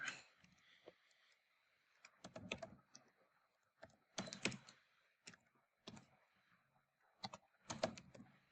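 Bursts of computer keyboard typing come in several quick clusters of clicks separated by short pauses, fairly close and moderately quiet, with no talking.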